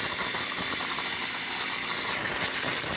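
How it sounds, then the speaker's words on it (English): Loud, steady hiss of steam jetting from a Saeco espresso machine at full pressure, a broad continuous rush with faint mechanical rattling underneath. "Nice steam coming out of the machine."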